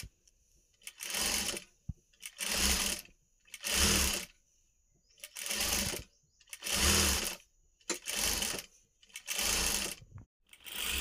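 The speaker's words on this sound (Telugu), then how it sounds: "బ్లౌజ్ పైన మనము వన్ సైడ్ ఫోల్డ్ చేసి కుట్టుకున్న శారీ పీస్ని ఇలా పెట్టి ఒక పావించు వెడల్పుతో చుట్టూ కుట్టుకుంటూ రావాలండి మెల్లిగా" A sewing machine runs in repeated short bursts, stitching thread piping around the edge of a saree-piece blouse, each whirring run about a second long with brief pauses between, close and clear with no talking.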